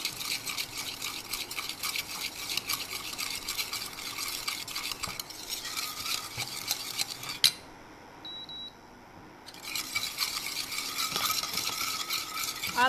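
Honey mustard salad dressing with lemon juice whisked briskly in a bowl, a fast continuous scraping and clinking of utensil against dish that stops briefly midway, then resumes just as vigorously.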